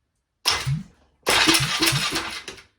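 A Polaris Sportsman 500 6x6 ATV engine with its exhaust removed is briefly cranked, giving a short first burst and then a longer run of rhythmic, chugging compression strokes, close and fairly loud, with no talking.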